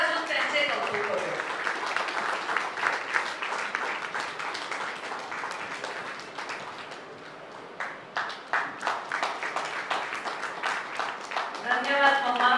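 Audience at a book launch ceremony applauds in honour of Asha Matkar, dense clapping that swells, dips briefly in the middle, then rises again with a voice breaking in at the end.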